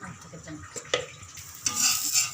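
Dosa batter frying in ghee or sesame oil on a hot pan, with soft scraping and stirring, then a louder bright sizzle rising in the second half. No voices.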